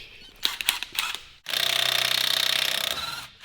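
A Snap-on torque wrench on an extension ratchets with a few sharp clicks, then gives a longer, dense run of rapid, loud close-up clicking and grinding before stopping, with no talk.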